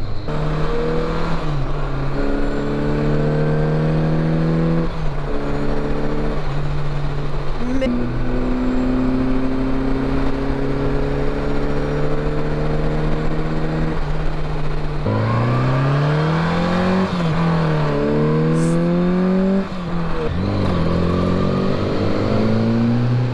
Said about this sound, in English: That is a great sounding bike.